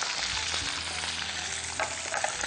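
Fish fries in hot mustard oil, giving a close, dense and continuous sizzle with small crackles and a faint low hum underneath, with no voices.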